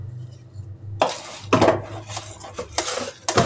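Pots, dishes and cutlery clatter and clink in a home kitchen while tea is made, several loud bursts of metallic knocking and scraping, close by with no talk.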